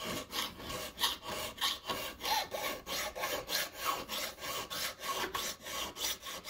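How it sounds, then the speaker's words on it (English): Repeated rhythmic rasping of a metal file across a coin being shaped into a ring, steady back-and-forth strokes close up with no talking. "I'm going filing a little bit extra in this side here"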